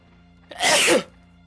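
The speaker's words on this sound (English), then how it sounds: "I like how you sneezed almost at exactly the same time the pig did" A single loud sneeze bursts out suddenly, close and sharp, against a quiet background.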